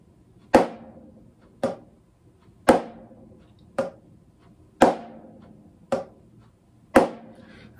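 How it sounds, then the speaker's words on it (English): Drumsticks play a single-hand flam exercise: six sharp, close taps in a steady pattern, with loud downstrokes alternating with softer tap-up strokes and a dry decay after each. "It starts with a tap up, and then a downstroke or a stroke down."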